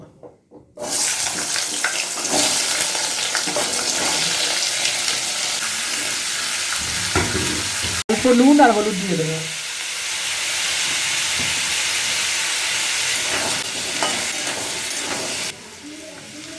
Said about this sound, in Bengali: এই তেলের উপরেই আমি ওলকপি আলুগুলো ভেজে নেব